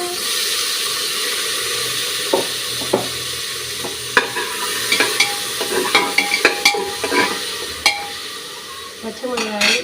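Green chilies and tomatoes frying in a pan for khichdi, a steady sizzle under a run of sharp scraping stirs and light utensil taps, close and moderately loud.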